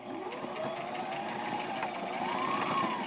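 A sewing machine runs a straight stitch through fabric and elastic for a face mask, a quick even whirring hum that holds steady at close range, rising slightly in pitch near the end.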